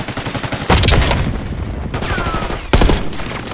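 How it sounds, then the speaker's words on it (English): Gunfire and grenade blasts in Black Ops 6 multiplayer on PS5: two loud, sharp explosions burst out over a steady rattle of rapid shots, with no talking. "There's grenades everywhere."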